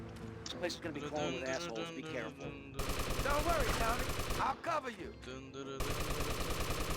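An MP5 submachine gun in GTA fires in two long, dense bursts of rapid shots, loud and close, layered over game music and voices.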